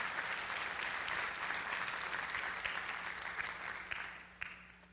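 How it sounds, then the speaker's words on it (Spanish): Congregation at a church service breaking into sustained applause, a dense even clatter of many clapping hands that gradually fades toward the end, with no talking. "Dale un aplauso a Jesús"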